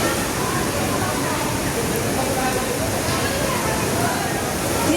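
A river rushes steadily and loudly nearby, a dense, unbroken roar of flowing water lasting throughout, with no breaks or changes in level.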